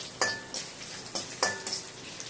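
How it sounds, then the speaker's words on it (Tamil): Hot oil sizzles steadily as raw banana masala pieces deep-fry, while a few sharp stirring scrapes and clinks strike at irregular intervals, close by, no talking. "இப்போது இது போட்டு நல்லா டீப் ஃப்ரை"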